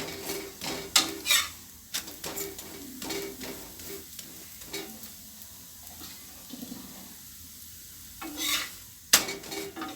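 Instant chapati batter cooks in an oiled pan over medium heat with a soft, steady sizzle, punctuated by sharp clinks and scrapes of a spatula or ladle against the pan, clustered at the start and near the end.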